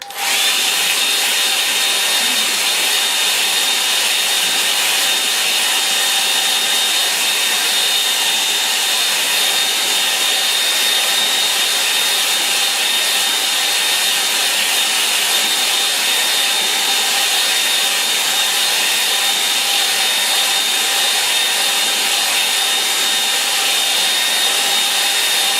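A hair dryer blows steadily over a watercolour and gouache painting, a loud, unbroken whirring hiss with a high whine that holds evenly throughout with no talking.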